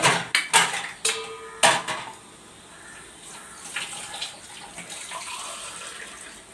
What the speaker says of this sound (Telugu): ఇలా వేసుకున్నాక ఎగ్స్ కూడా వేసేసుకొని వాటర్ వేసేస్తే సరిపోతుంది.